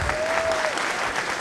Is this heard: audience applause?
yes